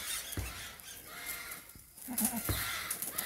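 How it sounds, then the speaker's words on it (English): Birds on a goat farm give a few squawks and caws amid faint background noise, with a louder call near the end. "Apologize about the bird noises."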